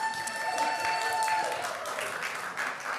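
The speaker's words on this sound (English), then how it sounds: "why is everyone cheering about Louise Fletcher?" A church congregation at a live worship service applauds in a steady wash of clapping, moderately distant and sustained throughout, with faint cheering mixed in.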